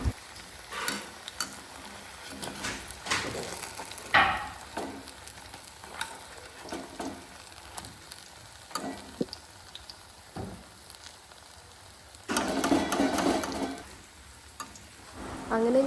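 Jackfruit fritters sizzle and crackle in hot oil, a steady frying hiss broken by scraping and clinking as they are scooped out, with a louder burst of bubbling near the end.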